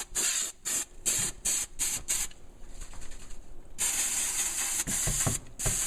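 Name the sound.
spray glue sprayed from an aerosol can into a saddlebag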